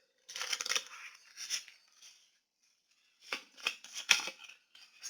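Tarot cards are shuffled by hand in quick, close riffling bursts, two bouts separated by a quiet pause, with soft crisp flicks of card stock.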